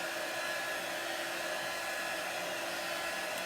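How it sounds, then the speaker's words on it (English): A hair dryer runs steadily to dry chalk paste on a Chalk Couture project: a close, loud, continuous broadband whoosh that holds an even level throughout with no pauses and no voices. "you can use a heat tool or you can use a hairdryer"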